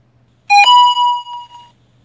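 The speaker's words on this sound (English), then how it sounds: "Excuse the beeping." A phone notification chimes during a live stamp-making stream, a two-tone ding-dong with a ringing tail and a faint trailing echo, clear and close against near silence.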